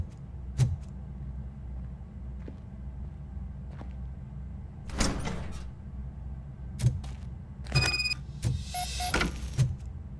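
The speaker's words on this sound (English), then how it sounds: "Now let me get that door open for you." Door in RoboCop: Rogue City sliding open, with several sharp mechanical clunks and creaks spaced over a quiet hum, growing into a busier burst of hisses and metallic whirs toward the end.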